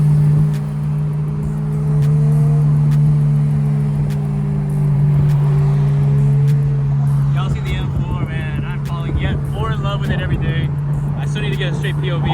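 A Honda S2000 with VTEC heard from inside while driving, a steady loud engine drone that rises into a harsher rev toward the end, with people talking over it.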